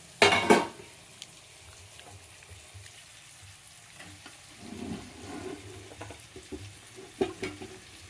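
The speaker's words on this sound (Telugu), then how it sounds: "ఇప్పుడు అరటికాయ వక్కలు వేసుకుందాం." Raw plantain pieces drop into a pan of cooked tomato with a loud clatter, followed by quieter sizzling and stirring scrapes that swell in a few bursts toward the end.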